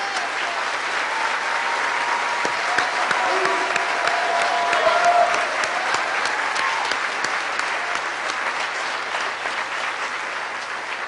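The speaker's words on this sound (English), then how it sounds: "please give a round of applause to Jazz Hayden" A sustained round of applause from an audience at Riverside Church, steady dense clapping filling the room for about eleven seconds with a slight swell midway, a few louder claps standing out.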